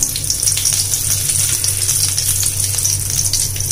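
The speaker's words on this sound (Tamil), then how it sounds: "எண்ணெய் காஞ்சோடனே ஒரு பிரிஞ்சி இலை ஒரு பட்டை ரெண்டு ஏலக்காய் அடுத்ததாக இதில் ஒரே ஒரு பச்சை மிளகா கொஞ்சமாக கருவேப்பிலை இலை" Bay leaf, cinnamon stick, cardamom pods, a green chilli and curry leaves frying in hot oil, giving a steady, loud, continuous sizzle and hiss throughout with no talking.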